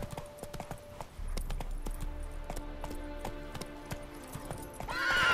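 Horse hooves clip-clop in a steady walking rhythm in The Witcher 3 video game, with a brief whinny, the footfalls fairly quiet and close against faint game ambience.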